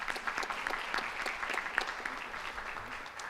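Audience at a school board of education meeting gives a round of applause for a student honoree, steady moderate clapping from a modest crowd in a meeting room, fairly faint and even.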